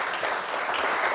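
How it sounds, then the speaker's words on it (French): An audience at an artificial intelligence conference in the Alpes-Maritimes claps in a brief, dense burst of applause, steady and close throughout. "vous pouvez applaudir également"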